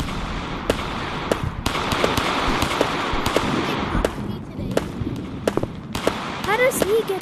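Gunshots in a WW1 video game, a string of sharp cracks scattered irregularly over a noisy battlefield background, fairly loud and close.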